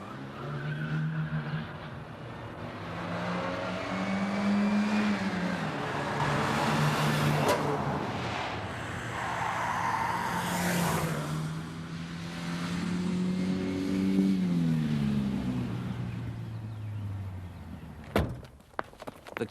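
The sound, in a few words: stolen Renault car accelerating away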